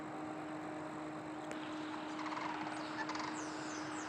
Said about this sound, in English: bird activity is on the increase